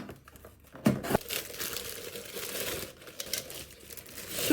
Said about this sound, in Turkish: Bu şekilde şimdi hemen kargoları açmaya geçelim.